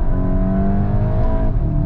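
A Volkswagen Golf 8 GTI engine pulls hard from low revs, a loud, close, steady drone with a slight drop in pitch toward the end.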